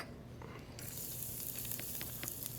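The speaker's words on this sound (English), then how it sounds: "So we're just gonna add a tiny bit of oil. That way we can just sweat our garlic." Garlic sweating in a little oil in a pan, starting as quiet background hiss and then breaking into a soft, continuous sizzle with small crackles, close up and faint, no talking.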